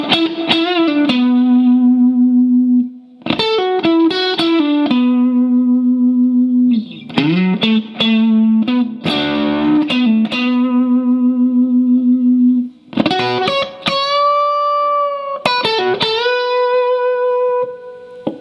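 Line 2 of a guitar solo on distorted electric guitar: bent and sustained notes in several phrases separated by brief gaps, loud and unaccompanied, with a slight echo.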